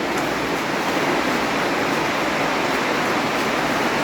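A waterfall roars inside a river tunnel beneath a town, loud and close, with a dense, unbroken rush of falling water throughout.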